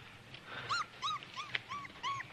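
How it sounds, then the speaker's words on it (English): A young wolf cub whimpers and yips in a run of about six short, high, rising-falling cries, fairly close and clear over a faint background, with no talk. "you know that's a wolf cub"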